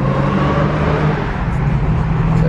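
A new Dodge Charger Redeye cruising at speed gives a steady, loud interior drone of engine and road noise, continuous and unbroken with no talking.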